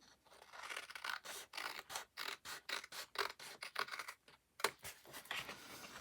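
Scissors trim the edge of a paper journal card, producing a close, steady series of crisp snipping and scraping cuts in a quick rhythm, broken by one brief pause, with no voices.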